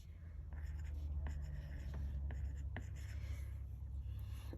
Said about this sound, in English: So say that you wanted to write right here on this box, you could do that by turning on your pen tool,